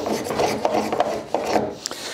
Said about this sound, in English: clamp both of them together, sand both of them at the same time and you'll just match up the two curves